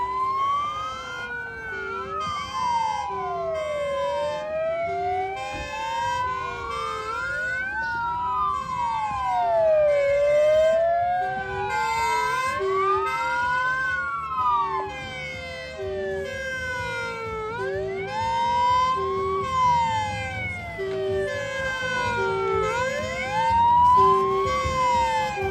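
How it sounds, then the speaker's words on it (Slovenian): Fire brigade rapid technical rescue vehicle, a small all-wheel-drive truck carrying hydraulic traffic-accident rescue tools, arriving at a demonstration exercise with its wailing siren sweeping up and down repeatedly, loud and close, alongside a steady pulsing horn tone. "na kraj so prišli gasilci s hitrim tehničnim reševalnim vozilom"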